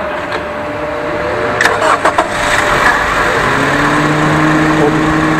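A car engine cranks and catches, then settles into a steady idle hum, heard close up over a continuous background noise, with no talking.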